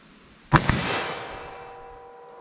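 A single .357 Magnum soft point pistol round fired at a 25-yard range, one sharp loud crack followed by a second quick report and a long fading ring-out.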